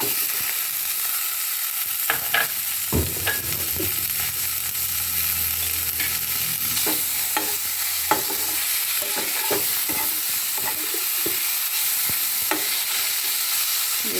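Tomatoes fry in a hot pan with salt as they are stirred, a steady close sizzle broken by frequent sharp scrapes and knocks of the spoon against the pan; no one speaks.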